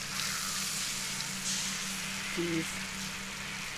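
Hot dogs sizzling in a frying pan, a steady close hiss and crackle running throughout, with a brief tonal beep and a voice speaking over it.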